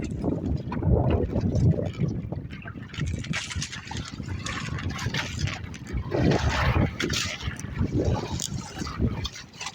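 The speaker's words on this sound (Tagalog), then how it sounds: "Lakas pa ng hangin." Strong wind roars continuously across the microphone, a gusty rumbling rush that swells and eases throughout.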